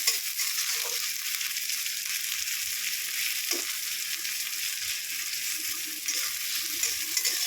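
Garlic and onion sizzle in a frying pan for a water spinach stir-fry, a constant close hiss of hot oil with a couple of soft stirring scrapes and no voices.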